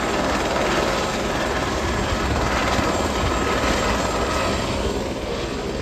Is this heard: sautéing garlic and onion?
no